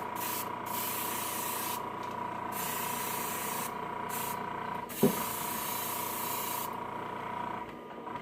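An aerosol can sprays a black coating onto a fishing lure, a steady close hiss broken by several short pauses, with a faint knock midway.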